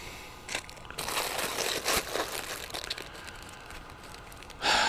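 A silver foil rescue blanket is handled up close, giving a steady run of crackling, crinkling rustles with louder bursts near the start and a sharp flurry at the end, with no voices.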